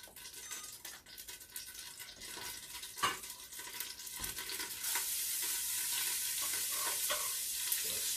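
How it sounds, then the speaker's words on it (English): Garlic sizzles and fries in a hot pan for tomato sauce, with a steady crackling hiss, occasional stirring clatter and a louder, brighter sizzle in the latter half. "Saute that garlic."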